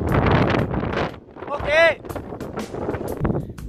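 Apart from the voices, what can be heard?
strong wind on hilltop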